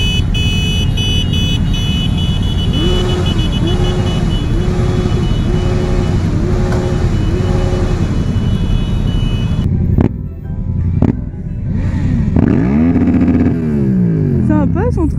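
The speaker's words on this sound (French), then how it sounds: "il y a tout ça en moto." Several motorcycles ride past during an Octobre Rose charity motorcycle rally, their engines droning steadily and loudly for about ten seconds before the sound breaks into scattered revs and a rising whine as bikes pass close by.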